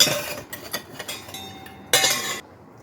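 Kitchen utensils and a metal vada frying pan are handled, with a series of close metallic clinks and clatters and one louder scraping clang near the end.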